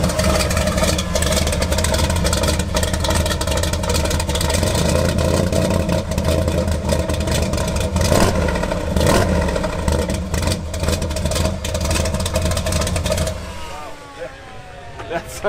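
A 1971 Ford C-600 cab-over truck with a 454 V8 engine, started and revved, runs loud and close in a steady rumbling drone with rises in pitch, then settles toward a lower idle near the end.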